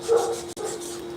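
Georgia, a dog, gives a short burst of whining and bark-like yelps at close range, with a brief break midway before a steadier whimpering tone resumes.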